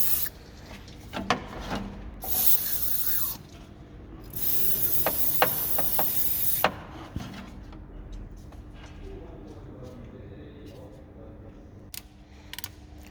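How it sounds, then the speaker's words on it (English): An aerosol can of contact cleaner hisses in two sustained bursts onto the ESP connector of a 2009 Mercedes E230 W211, with small clicks and handling noises between sprays. "I sprayed the whole thing with contact cleaner to remove the residual grease"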